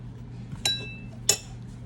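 A macaroni and cheese cup set down on a plate makes two sharp clinks about half a second apart over a steady low hum.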